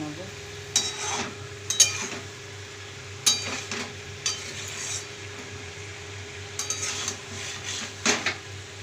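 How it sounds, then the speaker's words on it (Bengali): A spoon scrapes and knocks against a pot of simmering chickpea, potato and prawn curry, several distinct metallic clinks scattered over a low steady bubbling hum, close and moderately loud. "এবার আমি একটু নেড়ে নেবো।"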